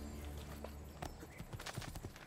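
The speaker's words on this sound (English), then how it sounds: "Let's get on the horse to speed up the fucking process." Horse hooves clip-clopping in the video game Assassin's Creed II, a quick irregular run of close, fairly loud hoof strikes, largely uninterrupted by talk.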